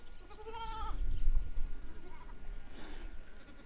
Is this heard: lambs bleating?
yes